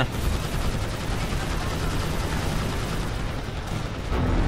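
Drone in the GTA 5 Oblivion Drones mod unleashing nonstop rapid gunfire, a dense, loud, continuous barrage with no pauses that lifts slightly at the very end, no talk over it.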